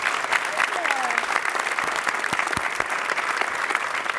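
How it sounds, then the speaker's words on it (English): Audience applause for candidates at the close of a Miami mayoral debate, a continuous dense crowd clapping at steady loudness, with faint voices and a few sharper claps in the middle. "A big round of applause to our candidates."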